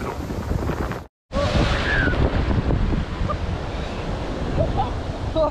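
Big ocean waves roll and crash continuously at Shankarpur beach, a loud steady surf roar with wind buffeting the microphone and a brief dropout early on.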